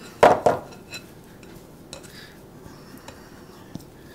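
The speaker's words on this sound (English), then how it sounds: "let's get the dough out of the bowl" Sticky no-knead bread dough is pulled out of a bowl onto a floured counter: a couple of close, sharp clatters from the bowl, then soft scraping and faint light knocks in a quiet kitchen.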